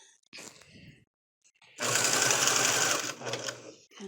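A sewing machine runs in a steady fast burst of stitching through the lacy fabric of a flower girl dress, close and loud for over a second, preceded by brief handling noises and a short pause.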